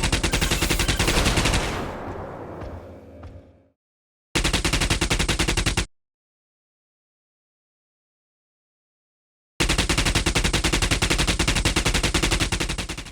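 Looping automatic gunfire from the video game Angry Bots, fast, loud bursts of shots that cut off abruptly, fall silent and then resume, with no voices.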